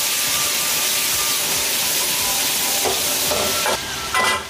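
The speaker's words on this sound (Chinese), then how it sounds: "给它快速的炒匀" Beef aorta and pork loin being stir-fried with greens and scallion in a hot wok with chili oil: a loud, continuous close sizzle, with brisk scraping and tossing toward the end and no talking.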